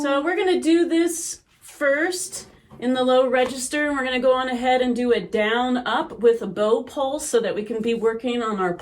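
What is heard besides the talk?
No distinct noise like a dog, phone or traffic.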